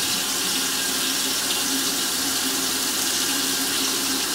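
Tap water runs hard and steady over a large fish fillet being rinsed in a sink, a loud continuous splashing hiss with no pauses and no talk.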